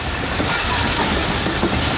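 A passenger train running on rails on a flood-diverted route from Faisalabad to Lahore, heard from inside the carriage as a loud, steady rumble with continuous wheel clatter.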